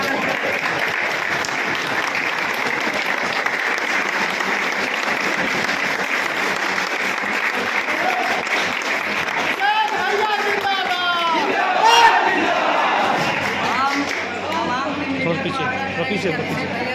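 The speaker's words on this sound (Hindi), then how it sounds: "अभिषेक भैया को पुष्पमाला पहना के स्वागत सम्मान में जोरदार तालियों के साथ स्वागत करते हैं" A crowd at a union meeting claps loudly and steadily to welcome a guest being honoured with a garland. The dense applause carries on throughout, and voices and chatter rise within it toward the end.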